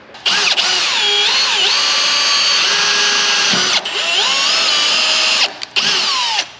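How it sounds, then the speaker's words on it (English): A power drill pre-drilling through wood and metal while building a mini gooseneck trailer, whining loudly and continuously with pitch shifts as it bites, cut by two brief pauses near the end. "we've pre-drilled through the wood and through the metal"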